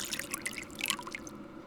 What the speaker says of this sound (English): next I need to pour the ethanol into the beaker